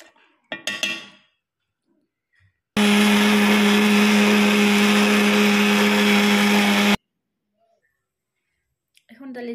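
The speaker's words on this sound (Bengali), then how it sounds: "গ্রাইন্ডার জারও ডালি দেই হালকা গরম আছে অসুবিধা নাই গ্রাইন্ড হয়ে যাব আরামসে" A mixer grinder jar whirs loudly and steadily for about four seconds while grinding warm masala for paneer masala, starting and stopping abruptly, with brief talk and clinks before and after.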